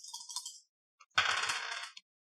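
Two dice rolled for a tabletop role-playing game, a brief rattle followed by a longer clattering tumble across a hard surface that stops abruptly, close and clear with no talk.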